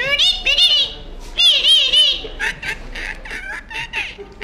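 A forest guard in the Tadoba jungle mimics a parrot with his voice, producing shrill, warbling squawks in several short bursts, loud and close, with brief pauses between calls.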